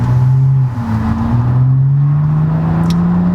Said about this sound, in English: I don't know how well the mic is picking up the exhaust note